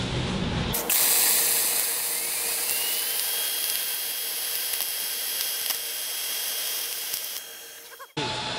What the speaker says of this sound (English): We're just going to do a multi-pass weld and give this thing a shot.